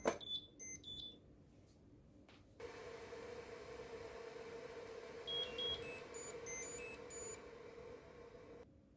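A Karaca Hatır Hüp Turkish coffee machine gives a short series of high electronic beeps at the start as its alert, then a steady hum follows with more faint beeping patterns.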